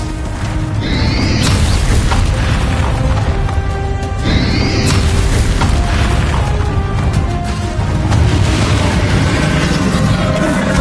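Confringo blasting spell explosions in Hogwarts Legacy during a dragon fight, a dense, loud, continuous wall of booms, crashes and magical whooshing effects with rising tonal sweeps, close and unbroken.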